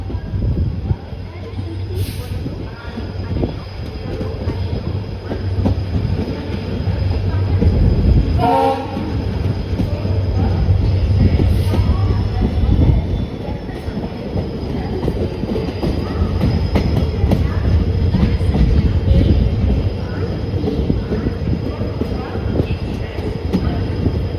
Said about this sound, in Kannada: ಪ್ಲಾಟ್ಫಾರ್ಮ್ ನಂಬರ್ 1ಗೆ ಹೋಗ್ತಾ ಇದೆ ನಮ್ಮ ಟ್ರೈನು